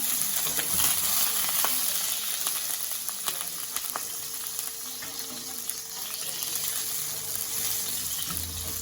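Garlic sizzling in a little cooking oil for chicken sopas, a steady close crackle with occasional utensil clicks and stirring scrapes.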